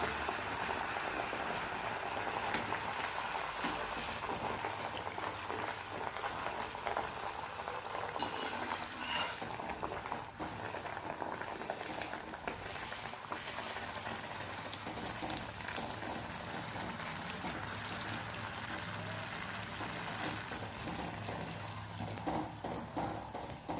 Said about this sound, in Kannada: ಇನ್ನೊಂದು ವಡೆಯನ್ನು ನಾನು ಮಾಡಿಕೊಂಡು ಎಣ್ಣೆಯಲ್ಲಿ ಫ್ರೈ ಮಾಡ್ತಾ ಇದ್ದೇನೆ